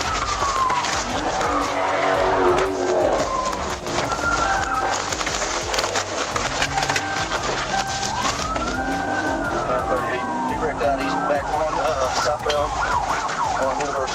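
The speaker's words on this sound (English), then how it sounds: "The Charger sped recklessly through city streets, and at one intersection, the driver lost control while trying to make a sharp turn." A black Dodge Charger speeds through city streets during a police pursuit, with loud, continuous car noise, tire squeals, skids and siren-like wails layered throughout, no talking.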